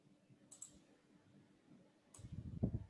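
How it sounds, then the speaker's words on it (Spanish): Two crisp, faint clicks of a computer mouse come about a second and a half apart, followed by soft rustling at the end, with no talk. "Y haciéndole clic y arrastrando."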